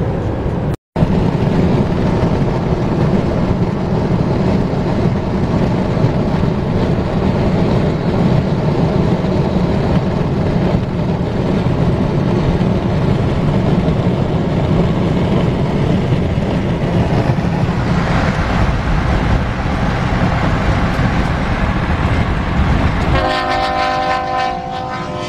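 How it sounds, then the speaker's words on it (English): Union Pacific freight trains passing close during a railfan weekend, a loud continuous rumble and rolling clatter of railcars lasting throughout, with a horn-like tonal blast near the end. "Two trains coming."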